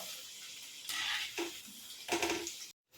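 Rice flour mini masala thattai frying in hot oil, a faint crackling sizzle with bursts of stirring and clinking of a spoon or pan, ending in a brief cut.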